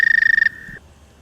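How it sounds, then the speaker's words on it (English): A male toad trills at a still pool on a warm night, a rapid high pulsing trill heard close and loud for about half a second, then a fainter steady tone fading into quiet. "Remember, only the male toads trill."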